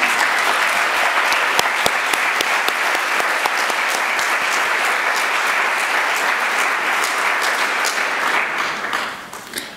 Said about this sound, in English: Would you stand and take some applause?